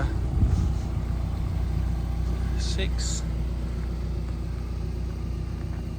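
A tuned Mazda MX5 with a carbon boot and wide arch kit idles nearby with a low, steady exhaust rumble, while someone speaks briefly over it.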